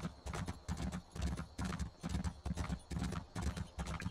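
Horse hooves clip-clop in a fast, steady rhythm in the Elder Scrolls Online video game, loud and continuous throughout with no speech over them.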